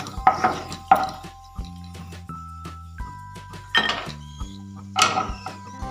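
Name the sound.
fried dry fruits being transferred from the pan into a bowl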